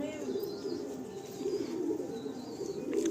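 Pigeons kept for sale cooing softly in a coop, a low continuous burbling murmur with faint chirps and a distant rustle, fairly quiet throughout.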